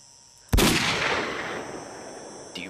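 A single loud gunshot rings out in S.T.A.L.K.E.R. Call of Pripyat, set in Pripyat, its sharp crack followed by a long, fading echo, with a fainter shot near the end.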